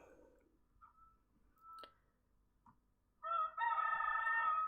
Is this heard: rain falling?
no